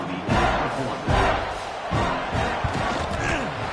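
A football stadium crowd cheers and roars after an extra point, loud and surging in several waves with dull thumps mixed in, and voices carry through the noise.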